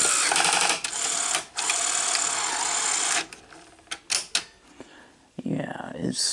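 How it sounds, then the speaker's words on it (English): Gear mechanism of a Sony SL-HF400 Betamax VCR under repair, grinding and whirring loudly in a dense mechanical run for about three seconds, then several shorter clicking, rattling bursts. "you can hear the gears grinding a little bit"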